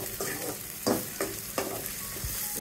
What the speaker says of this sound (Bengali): লঙ্কা দিয়ে দিচ্ছি, পেঁয়াজ কুচি দিয়ে দিচ্ছি। কষিয়ে নিচ্ছি